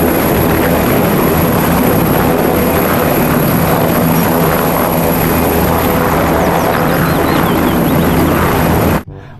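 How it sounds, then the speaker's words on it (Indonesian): A toy military helicopter gives a loud, steady, close-up whirring rotor drone with a thin high whine, running without a break for about nine seconds before cutting off abruptly. "Yang ini ada helikopter militer ya."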